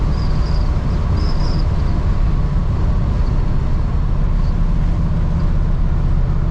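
A truck that rides rough and has been run warm is driving along, with a loud, constant engine and road rumble heard from inside the cab. The heavy low drone stays unbroken the whole time, and no one speaks.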